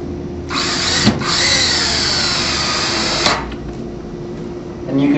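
A power drill drives a screw into a door frame, countersinking the head, as a loud steady whir runs nearly throughout, with two brief sharp catches and a short pause near the end.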